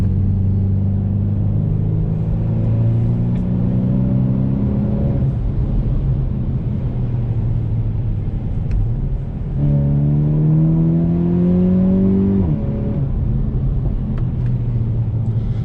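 Volkswagen T-Roc R engine pulling hard through the gears, rising engine tones climbing then dropping at a shift and climbing again, loud and steady, heard from inside the car.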